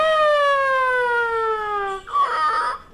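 A voice imitates a siren with a long, steadily falling wail, followed by a short warbling rise and fall, heard up close.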